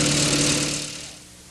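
A car engine idles steadily up close while being tuned during a tune-up, a smooth continuous hum that fades somewhat in the last half second.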